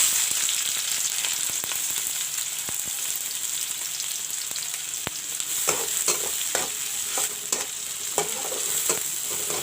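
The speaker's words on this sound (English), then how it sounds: "Let the onions turn golden brown." Onion and green chilies frying in mustard oil, with a bright steady hiss of sizzling throughout and a run of clicking stirs and scrapes in the second half, close and alone.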